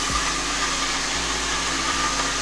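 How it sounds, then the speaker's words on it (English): A sous vide immersion circulator runs with a steady, loud whirring hum close by, unchanging throughout with faint low thumps, no voices. "An immersion circulator"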